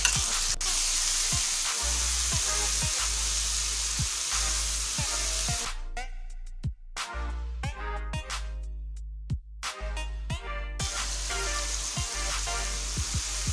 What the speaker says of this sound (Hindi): मसाले को भून लेंगे इसे अच्छी तरह